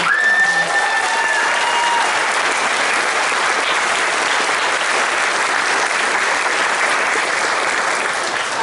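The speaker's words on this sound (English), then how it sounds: "So one more round of applause." Sustained audience applause fills a high school end-of-year choir concert hall, steady and dense for the whole stretch, with a few faint whistles or cheers early on and no talk over it.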